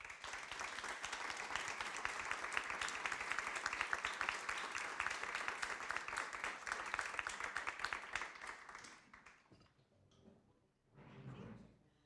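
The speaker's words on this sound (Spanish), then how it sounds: "nos despedimos con un aplauso para todos nosotros" Applause closes an online talk on women's economic autonomy, a dense stretch of clapping that runs evenly for several seconds and then fades out, followed by a brief soft sound near the end.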